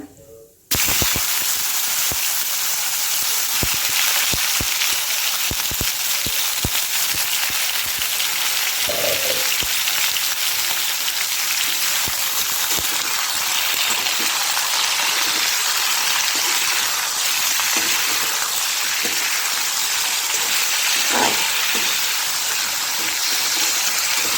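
Potato slices sizzle in plenty of hot oil in a wok with mustard and cumin seeds, a loud, continuous close-up frying hiss with faint clinks now and then.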